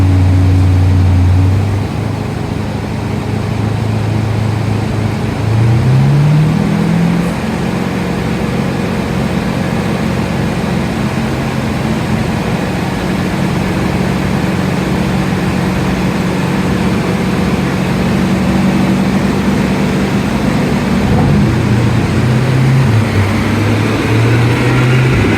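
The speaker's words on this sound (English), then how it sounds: "Dynoing the all-wheel drive ERay and rear-wheel drive." A Corvette C8 E-Ray all-wheel-drive car roars loud and close on a dyno, its engine droning steadily as the pitch climbs and shifts through the gears over a long continuous run.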